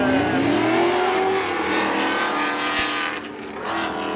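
Drag racing cars at Seekonk Speedway roar loudly at close range, engines revving and accelerating in a sustained rising howl that eases off near the end, with no talk.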